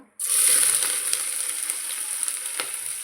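Onions drop into hot oil for a mutton biryani cooked in a pressure cooker. A sudden loud sizzle bursts up and holds, with a few light scrapes and pops inside the steady hiss.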